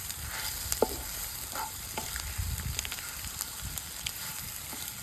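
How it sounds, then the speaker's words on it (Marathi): Egg bhurji cooking in a pan with chopped egg and coriander, producing a soft continuous sizzle with light scraping stir strokes at intervals, fairly quiet and with no talking. "2 मिनिटं आपण भुर्जी व्यवस्थित शिजवून घेऊ।"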